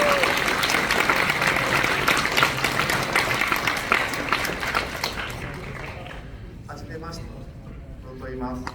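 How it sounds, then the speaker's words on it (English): A convention audience at a live anime drawing event applauds in a dense, loud, sustained roar of clapping that fades out near the end, with a voice starting to talk as it dies away. "A round of applause, please."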